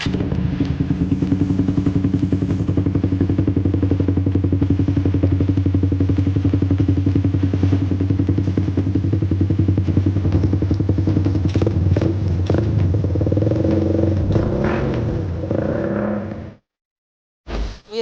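A Honda Wave 100 motorcycle engine idles loudly up close in a repair shop with a steady throbbing rumble, a few clattery revs near the end before it cuts out abruptly.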